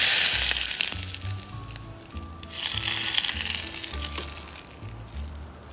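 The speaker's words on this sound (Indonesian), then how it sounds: "Biar cepat kawan-kawan, di sini saya tambahkan minyak panas ya." Rendang beef sizzling and frying in a pan after hot oil is added, a steady loud crackle with stirring clinks and scrapes throughout, no talking.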